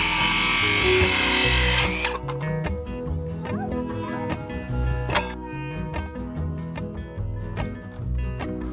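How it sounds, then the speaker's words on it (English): A power drill drives 4-inch screws into the bottom of wooden uprights for a cattle panel greenhouse. A loud steady whir opens the span, then short buzzing bursts and knocks follow, with occasional talk. "And on the bottom, I'm gonna put in 3 4-inch screws."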